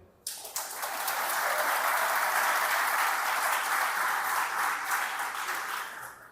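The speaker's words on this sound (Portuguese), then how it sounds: "Dá um aplauso a ele." An audience at a sermon breaks into sustained applause. Dense clapping starts abruptly, holds steady and loud for several seconds, then begins to fade.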